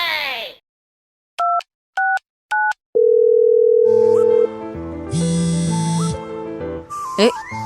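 A phone call is placed: three short key-press beeps, then a steady dial tone lasting over a second, followed by a busier stretch of mixed tones and background sound.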